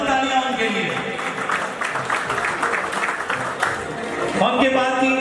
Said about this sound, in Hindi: भरपूर तालियां उनके लिए।